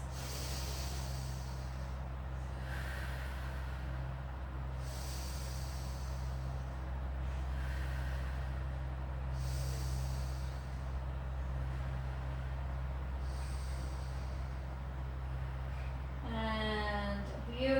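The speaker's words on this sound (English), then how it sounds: "taking some deep in-out breaths." Slow, deep breathing in and out during a pilates stretch, with several long airy breaths at a steady rhythm over a constant low hum, ending with a brief voiced sound.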